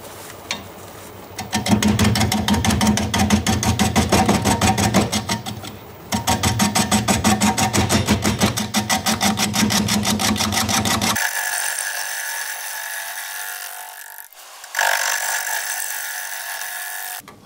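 A carbide lathe tool chewing into a spinning manzanita root ball, a loud continuous buzzing grind with a rapid ticking flutter that pauses briefly, then drops to a thinner, quieter whine near the end.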